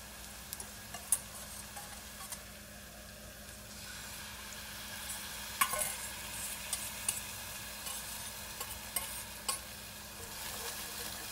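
Sauce is stirred into Asian chicken wings in a pan, giving a faint steady sizzle with scattered light clicks and scrapes of a utensil, quiet and unaccompanied by speech.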